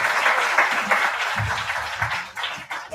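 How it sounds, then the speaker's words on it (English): Applause from an audience closing a health panel discussion, a steady dense patter of clapping that carries through the whole stretch at moderate loudness, thinning slightly near the end. "So please give a huge round of applause to these lovely people over here."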